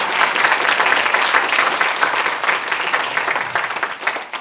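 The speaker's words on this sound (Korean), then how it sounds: "박수 한번 부탁드립니다" An audience at a talk concert applauds, a dense burst of many hands clapping together that stays loud and steady before thinning slightly at the end.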